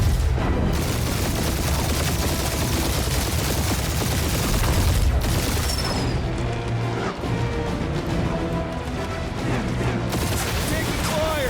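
Dense gunfire and explosions in Marvel's Guardians of the Galaxy form a continuous loud barrage of shots and booms, with game effects and voices mixed in throughout.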